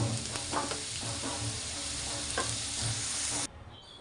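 Potatoes frying in mustard oil in a wok over a high flame for a thin magur fish curry, a close, steady sizzle with soft stirring scrapes, cutting off abruptly near the end.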